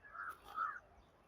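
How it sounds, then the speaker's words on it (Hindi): Two brief harsh bird calls, crow-like caws, ring out one after the other at a morning farm field, moderately near over quiet background. "चिड़िया लोग चहक रही हैं और अपने दाने के लिए"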